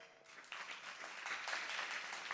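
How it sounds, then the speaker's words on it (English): An audience of first-time attendees gives a round of applause, faint but steady clapping from a crowd at some distance, rising slightly and continuing throughout. "A big round of applause to all of you."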